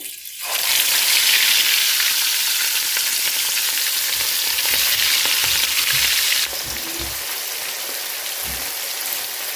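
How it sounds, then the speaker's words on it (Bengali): Turmeric- and salt-coated fish frying in hot oil in a frying pan, a loud steady sizzle that bursts in and holds throughout, easing slightly near the end, with faint low knocks. "হলুদ দিয়ে মেখে হচ্ছে ফ্রাই প্যানে বসিয়ে দিব"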